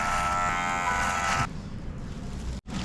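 Electric clippers trimming a beard at a spa barbershop in Pakistan, a close, bright buzzing hum that runs steadily, then drops to a duller tone and cuts out briefly near the end.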